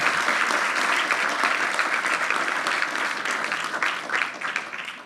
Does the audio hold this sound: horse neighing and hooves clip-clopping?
no